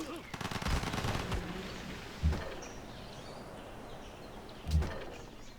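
Cannon fire hitting a ship in Civilization V, two heavy booming shots a few seconds apart over a busy game soundscape of distant battle crackle and calls.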